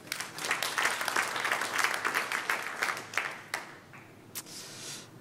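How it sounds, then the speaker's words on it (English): An audience claps at a Java EE development conference talk, with dense, moderately close applause that thins out into scattered claps and fades over about five seconds. "So now you can clap because you know it's working."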